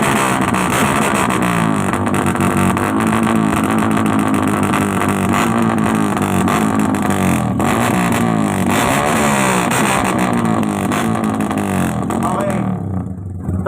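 A motorcycle trike engine revs loudly at an outdoor trike show, a sustained roaring drone with wavering pitch rising and falling across the whole stretch, close and dominant until it cuts off near the end.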